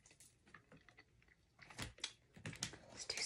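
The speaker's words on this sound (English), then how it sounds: "keep moving the cards around and channeling." Tarot cards shuffled and shifted around by hand, giving soft papery slides and taps, quiet and close, growing busier toward the end with no talking.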